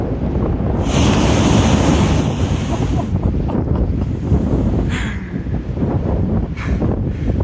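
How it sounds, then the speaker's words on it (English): Ocean blowholes blasting as big swells push into a long rock crack, heard as a loud, continuous roar of surf with heavy wind buffeting the microphone and a few sharper bursts of spray. "I'm here at the blowholes and they're blowing."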